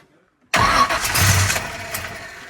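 A car engine cold-starting after sitting: after half a second of near silence the motor suddenly catches and roars loudly, then settles into a rough, uneven idle with slight surges, alone without talk.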